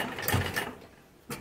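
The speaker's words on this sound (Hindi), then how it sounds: "इसी लेस के ऊपर से एक और सिलाई लगा देंगे ताकि अच्छे से बैठ जाए" A sewing machine stitches over lace on a kurti neckline in a short, close burst of mechanical clatter. It quiets down, then ends with a brief second knock.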